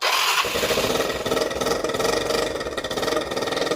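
A Fino scooter with its air filter housing removed catches after a brief starter burst and settles into a loud, buzzing, slightly uneven idle, close by, with no voices.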